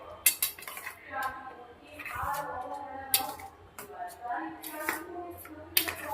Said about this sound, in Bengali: এবার আগে সব কিছু ভালো করে মিশিয়ে নেব, খুব সুন্দর করে সব কিছু মিশিয়ে নিতে হবে।